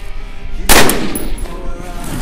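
A single sharp gunshot from an AR-15 M4 rifle being tested in mud cracks loudly outdoors, followed by a short ringing decay over steady background noise.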